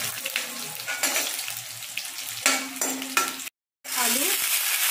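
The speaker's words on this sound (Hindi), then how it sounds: "डालेंगे बारीक कट किया हुआ मिर्ची। सेकेंड के लिए सौते कर लेंगे" Chopped chillies, garlic, cumin and curry leaves sauté in hot mustard oil, sizzling loudly up close with stirring scrapes and a short silent cut near the end.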